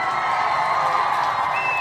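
An audience cheers and applauds for the Ujima babies, a dense, steady wash of clapping and whoops that fills the room from start to finish.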